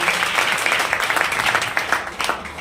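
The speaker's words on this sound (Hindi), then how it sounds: "एक बार तालियां हो जाए हार्वेस्ट सक्सेस एकेडमी के लिए" An audience applauds for Harvest Success Academy at a leader training session in Satna, Madhya Pradesh: a steady, dense patter of many hands clapping that holds at an even level for a few seconds.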